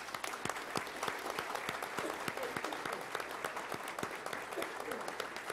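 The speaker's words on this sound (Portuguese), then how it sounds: "Uma salva de palmas para o nosso colega, por favor." A round of applause for a retiring colleague at a formal ceremony in a legislative assembly, many hands clapping steadily at moderate volume, with sharp individual claps standing out in the wash.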